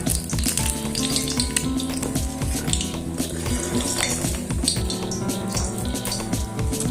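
Eggs frying golden brown in a pan of oil, with a steady loud sizzle, the occasional clink of a utensil against the pan, and no voices.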